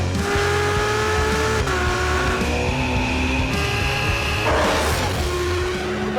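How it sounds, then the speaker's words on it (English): Ferrari F12tdf with a 770-horsepower naturally aspirated V12 accelerating hard, loud and close, the engine note climbing through rising harmonics with quick gear changes and no talk. "Welcome to the Ferrari F12tdf. 770 brake horsepower of brain-melting V12"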